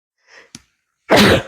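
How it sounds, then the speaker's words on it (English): A quiet intake of breath and a small catch, then a sudden loud sneeze, set off by pepper, bursting out at the end. "I'm getting ready to sneeze."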